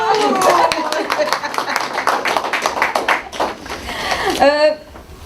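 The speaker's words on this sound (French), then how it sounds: "On applaudit." An audience claps for a regional personality being welcomed on stage, a burst of applause that thins out before a voice speaks near the end.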